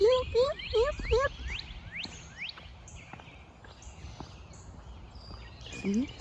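Birds chirp and call repeatedly on an outdoor morning walk, with quick sharp whistled notes up close at the start and scattered fainter calls after. Early on, a voice briefly imitates the calls with eep-like sounds.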